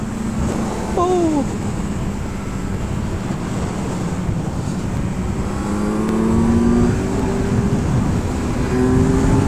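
Superbikes, including a Kawasaki Z900, ride past at night on the road, their engines droning and rising in pitch as they pass close by, with wind buffeting the microphone throughout.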